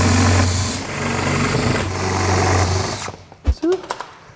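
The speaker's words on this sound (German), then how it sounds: "Das heißt, wir bohren das auf und machen die Köpfe weg." A power drill boring out the rivets holding a door speaker in a VW Golf 7, a loud steady whining buzz for about three seconds, then stopping into a few sharp clicks and knocks.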